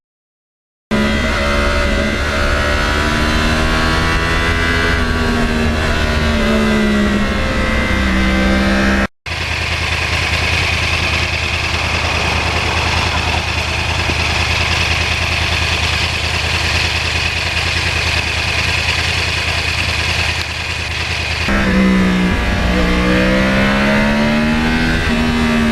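Yamaha R1 sport motorcycle with a crossplane-crank engine, heard while riding: a loud, steady engine drone that rises and falls with throttle changes, a brief dropout near the middle, then sustained cruising roar.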